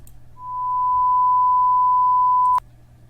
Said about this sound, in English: take this basic sine wave for example